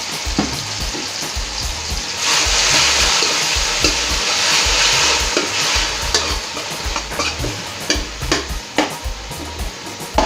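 Onion, garlic and pimento fry in a pan with steady stirring, a loud, continuous sizzle that swells after the first couple of seconds, broken by scraping strokes of the spoon and close clicks, with no talk.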